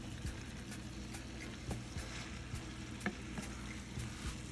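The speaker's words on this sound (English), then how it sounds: "stir it round, you just slightly turn it" Ackee and saltfish being stirred in a frying pan, with a steady close sizzle and repeated scraping turns of a utensil throughout, no talking.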